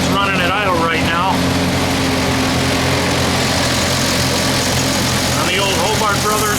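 A vintage Hobart Brothers military generator engine idles near operating temperature, giving a steady, loud, low drone throughout, with brief bits of talk over it near the start and end.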